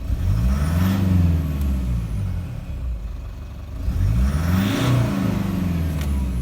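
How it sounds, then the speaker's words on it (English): A car engine with 363,000 km on its original injectors revs cleanly twice, each rise and fall smooth and strong, close up with no talking. "It's just an awesome clean revving engine."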